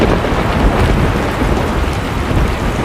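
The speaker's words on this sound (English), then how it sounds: "The storm is coming." Thunderstorm sound effect of dense, steady rain with a continuous low thunder rumble, loud and close throughout with no voices.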